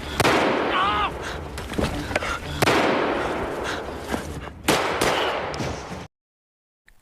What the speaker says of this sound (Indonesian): Sersan Greg terkena tembakan dari tentara Jerman.